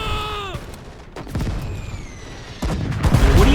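An anti-tank gunner fires repeatedly at a tank in the WW2 Eastern Front game Gates of Hell: Ostfront, with several loud gunshot cracks and booms spaced across a rumbling battle background.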